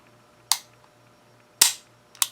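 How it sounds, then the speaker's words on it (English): CZ 97 BD pistol being dry fired, three sharp, close metallic clicks of the hammer falling, spaced unevenly over a couple of seconds against a quiet background. "Although just dry firing seems really nice."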